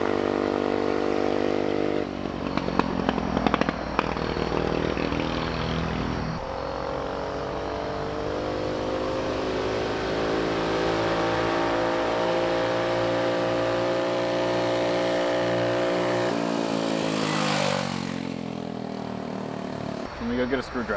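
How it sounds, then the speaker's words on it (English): A mini bike engine revs hard and steadily, its pitch climbing and falling through long pulls, with a deeper drop near the end and a few crackles that may be exhaust pops; a voice talks over it. "I'm gonna try to get the exhaust to pop"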